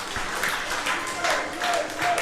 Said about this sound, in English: As the crowd give them a round of applause.